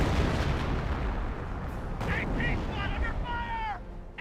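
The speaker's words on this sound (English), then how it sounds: "Sending more mortar on top of the M1 AT gun." Rumbling mortar barrage in the World War II strategy game Company of Heroes, heavy low booms rolling on continuously, with a brief voice and whistling tones layered over the bombardment.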